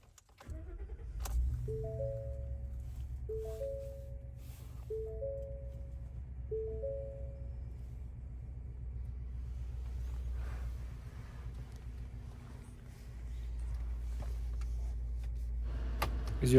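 A 2019 Ford F-250 Super Duty XL crew cab 4x4 pickup cranks and starts, then settles into a low, steady idle. A repeating electronic chime sounds over it early on, and the rumble swells again near the end.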